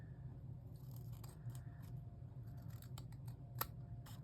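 Scissors snip paper to trim a handmade folio for snail mail: a handful of short, crisp cuts close by, spaced irregularly over a quiet room background, the last snip sharpest, with no voices.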